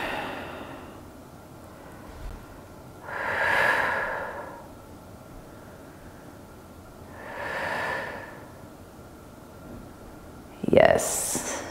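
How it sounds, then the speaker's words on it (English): Slow, steady breathing during a yoga stretch: two long, soft breaths a few seconds apart, followed by a sharper, louder exhale near the end, with no talking. "And breathe here."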